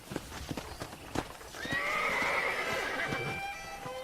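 A horse in the video game Red Dead Redemption: a few hoof clip-clops, then a loud, drawn-out neigh that rises and fades over the remaining seconds.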